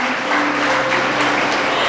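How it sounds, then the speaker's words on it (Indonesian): An audience at a testimony gathering breaks into steady, dense applause, a loud wash of many hands clapping at once without pause. "Tepuk tangan dulu buat saya."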